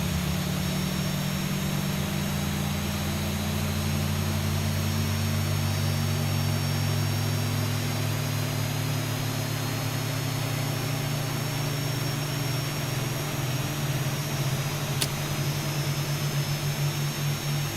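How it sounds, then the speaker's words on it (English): Boeing 737 jet engines run steadily in X-Plane 12 with an Alaska Air Cargo aircraft, a continuous low droning hum with rising tones and a high whine, heard alone at moderate level. "Alright, good start on engine 1 and 2."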